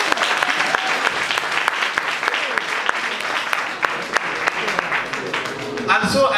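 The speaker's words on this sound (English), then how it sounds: "Clap for me." An audience at a graduation ceremony in Gambia applauds, dense sustained clapping with sharp individual claps standing out and voices talking over it toward the end.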